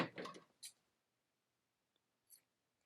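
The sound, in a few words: scissors cutting yarn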